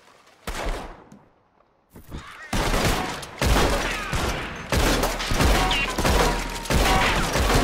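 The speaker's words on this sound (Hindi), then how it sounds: "देखो भैया क्या गोलियां चटका रहा हूँ।" Bursts of rapid gunfire in Red Dead Redemption 2 during a train robbery rattle loudly in several long volleys after a quieter start.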